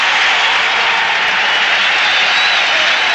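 A big baseball stadium crowd at a 1986 Giants at Astros game applauds and cheers, a dense, loud, unbroken wash of clapping and roaring with no gaps.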